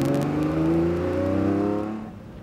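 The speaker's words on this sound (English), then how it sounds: "Ferrari Testarossa there," A Ferrari Testarossa drives past with a smooth, rising engine note that swells loudly and then fades as it pulls away, with no voices.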